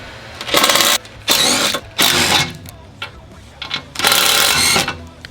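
A T50 Torx driver, likely a power tool, backs out skid plate bolts on an Ineos Grenadier, giving four loud, close whirring bursts of about a second each, separated by short quiet gaps.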